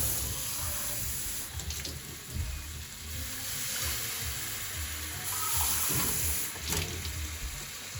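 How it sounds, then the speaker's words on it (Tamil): Water splashes and hisses steadily into a hot pan, a continuous close sizzling pour with slight surges, no voices. "இப்போ இதில் ஃபஸ்ட்டு கொஞ்சம் தண்ணி ஊற்றிக்கலாம்"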